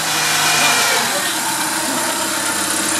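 A first-generation Renault Twingo engine idles steadily after an oil change, a loud, even mechanical hum and whir recorded close to the engine bay.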